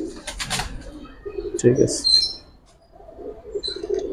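Giribaz pigeons at a pigeon sale, a few short soft coos close by, heard between and under a man's speech.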